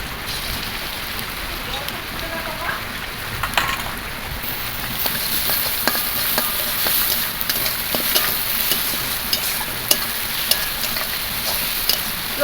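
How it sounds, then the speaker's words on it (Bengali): Crushed garlic added to frying onions in a pan sizzles and crackles steadily, with stirring scrapes and occasional sharp pops; someone talks over the cooking. "এবার দিয়ে দেবো থেতো করে রাখা রসুন।"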